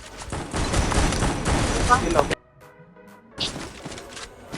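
Gunfire in a mobile battle-royale shooter match with an M79 grenade launcher in play: a dense, loud burst of shots and impacts for about two seconds, a brief lull, then more firing, with players talking over the noise.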